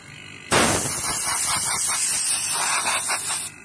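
An aerosol spray cleaner hisses onto a dusty electric fan in one steady, loud, close blast of about three seconds, cleaning it without water, and stops abruptly.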